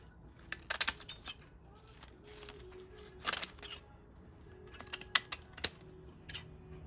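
Restored metal scissors opening and closing, now cutting all the way down and shutting fully. Short, crisp snipping clicks come in small clusters with quiet pauses between them, close by and fairly soft.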